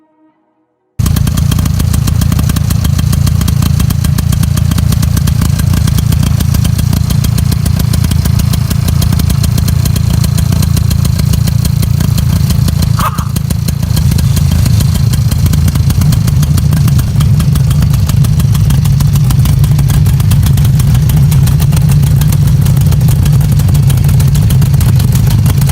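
A Ner-A-Car motorcycle engine runs steadily at a fast idle, a loud, close, continuous putter that holds unchanged for about twenty-five seconds with no voices.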